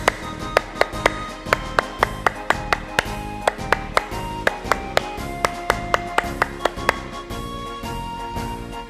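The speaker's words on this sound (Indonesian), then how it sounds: "Sekarang 2 kali tepuk pramuka" Indonesian scout clap (tepuk pramuka) performed twice by a group: crisp, fast rhythmic handclap patterns in sharp bursts, with faint background noise.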